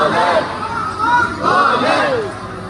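Devotees at the crowded Mahakaleshwar temple in Ujjain chant slogans together, a loud, close, surging mass of voices rising and falling in waves.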